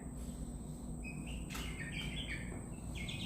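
Young chickens in a coop give soft, scattered high chirps and short tweets over a low, steady background hum, the calls faint and intermittent rather than continuous.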